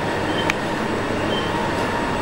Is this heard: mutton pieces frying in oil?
no